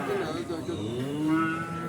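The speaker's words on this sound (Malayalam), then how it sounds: "ഈ പോത്ത്" Buffalo at a cattle market lowing in a long, drawn-out moo that rises and holds, loud and close, with low market murmur beneath and no talk over it.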